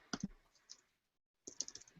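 Keys clatter on a computer keyboard while commands are typed to steer a small robot, short bursts of close clicks separated by a pause of near silence.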